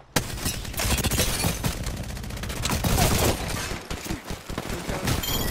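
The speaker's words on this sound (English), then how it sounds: "They're shooting at me." Enemy gunfire in the video game Apex Legends, a dense, rapid volley of shots rattling almost without pause, loud and close throughout.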